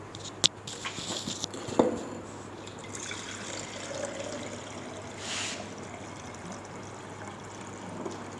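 Roughly 800 ml of water being poured into a container for a bitumen softening-point lab test, a soft trickling and pattering fill with a few clinks near the start.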